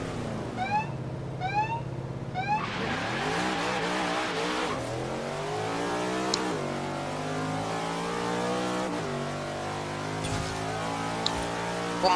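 A 1956 Ford F100 pickup with a 460 V8 driving in Forza Horizon 3, its engine revving up through rising gear pulls with clear shifts, loud and close, alone without talk.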